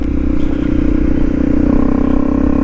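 Honda CRF 250 Rally motorcycle riding down a lane, a steady close engine drone with rattly clatter and wind buffeting, continuous throughout without talk.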